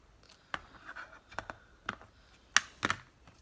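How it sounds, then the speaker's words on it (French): Small scissors snipping a cut paper letter in a series of quiet, close, irregular clicks and short cuts, with soft paper handling between them. "je me suis un peu loupée, donc du coup, j'ajuste avec le ciseau"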